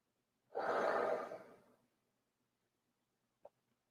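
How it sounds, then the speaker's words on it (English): One slow, deep breath drawn close and soft during a meditation session, lasting over a second before trailing into near silence, followed by a tiny faint click. "Breathing in and breathing out."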